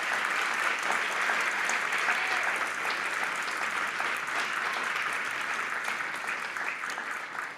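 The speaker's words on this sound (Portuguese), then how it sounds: "Pode bater palmas" A church congregation claps steadily together, a dense, even wash of applause sustained throughout without pause, fading slightly near the end.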